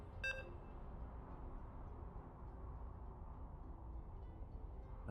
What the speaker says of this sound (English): And you can hear the beeps.